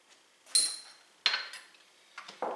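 A metal measuring teaspoon clinks against a pot or bowl while table salt is added to pea soup, a few sharp, close metallic taps separated by short gaps.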